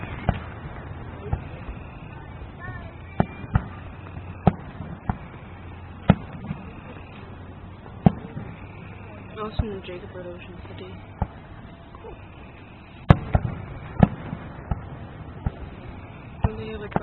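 A Fourth of July 2014 fireworks display at Havre de Grace, heard as scattered sharp pops and bangs at uneven intervals, some distant and some stronger, beneath ongoing conversation.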